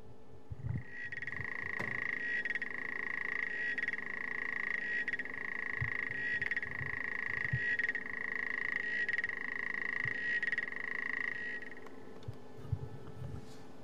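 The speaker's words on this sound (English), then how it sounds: "Common platana, Xenopus laevis." A common platana frog, Xenopus laevis, gives a recorded call: a long series of rapid, evenly spaced metallic ticking bursts, repeated about every second and a half, moderately loud over faint background hiss.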